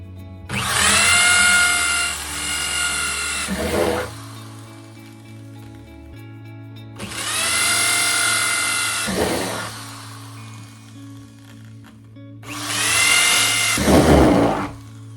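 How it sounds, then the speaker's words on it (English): A power drill boring holes in a 55-gallon plastic barrel whines loudly in three separate bursts, each lasting a few seconds with short quiet pauses between them, close up. "we've got those first 9 holes drilled down the center line"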